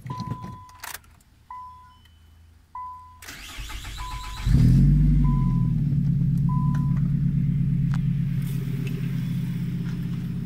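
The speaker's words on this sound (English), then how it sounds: "Let me start the car right now." A Nissan Sentra SE-R Spec V fitted with a 2JRacing Medusa header starts up after a few chimes and key sounds, then settles into a loud, steady, rumbling idle close by.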